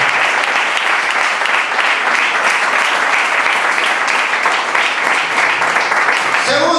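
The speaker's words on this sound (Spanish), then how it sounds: "Levante su mano si usted ama al Señor y denle un aplauso en esta noche." Evening church congregation applauding loudly, a thick, sustained wash of clapping that stays strong throughout and carries faint voices within it.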